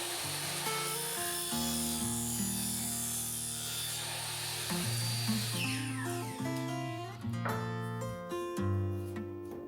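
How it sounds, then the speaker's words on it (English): A miter saw cuts through pipe for a shop vac cyclone setup, its motor whining with shifting tonal pitches as the blade bites in, loud and close for nearly ten seconds. "And then to get as straight cut as possible, I use a miter saw."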